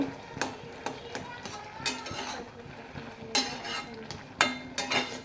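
A spoon stirs lentils and pumpkin greens with turmeric and salt in a pot, making scattered scraping taps and clinks against the metal. The irregular knocks sit close and fairly quiet, with faint background noise between them.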